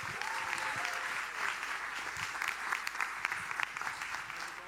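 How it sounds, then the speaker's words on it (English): Audience applause for a speaker being welcomed onstage at FITC Amsterdam, a steady wash of many hands clapping throughout, moderately loud and without talk. "Would you please give a warm round of applause for Alon Chitiat?"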